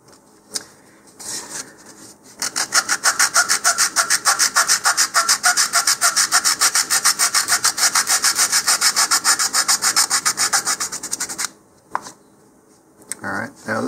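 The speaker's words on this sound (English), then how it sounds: "we're going to need to trim down the fin tabs a bit" Fast rhythmic sawing or filing rasps as a wooden model rocket fin tab is trimmed down, a steady close scraping run lasting several seconds between shorter strokes at start and end.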